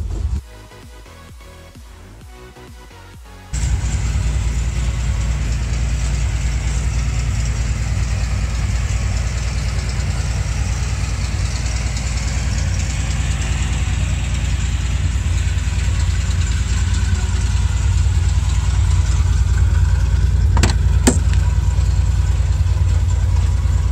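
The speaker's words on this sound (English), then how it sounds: "You can hear why I'm taking her in to have her adjusted and tuned. She spits and sputters" A Datsun 240Z engine starts up and idles roughly nearby, its steady low rumble uneven with spits and sputters that point to a poor tune, and no one speaks.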